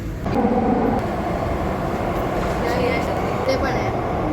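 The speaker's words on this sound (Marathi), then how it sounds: "आता आम्ही बसलो ट्रेनमध्ये" A Mumbai Aqua Line metro train runs steadily with passengers aboard, a continuous rumbling hum filling the carriage while a person talks over it.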